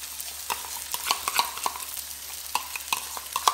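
Tomato sauce and soy sauce mixed together are poured into a sizzling pan for rice Manchurian and stirred, with close scraping stirs and sputtering sizzle in short irregular bursts, no talking.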